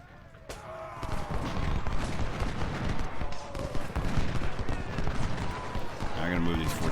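Artillery and rifle fire rattle across the Prairie Grove battlefield in Ultimate General: Civil War, with 14-pounder and siege guns in play: dense, continuous crackling volleys and thuds at moderate loudness, with a brief sharper burst near the end.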